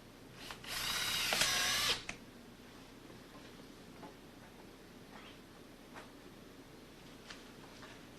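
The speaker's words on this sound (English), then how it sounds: "We're going to drill a couple of holes in our story pole into our patterns so it'll hold it on this story pole" A power drill bores holes into a wooden story pole while making a homemade door-hanging tool, one loud steady burst of about a second and a half, followed by faint scattered ticks and clicks.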